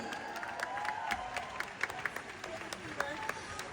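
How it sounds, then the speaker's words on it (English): A convention audience at a Twilight cast panel at Comic Con Midlands claps, with a dense, moderately distant patter of applause mixed with some crowd voices. "One more round of applause for Peter and Nikki."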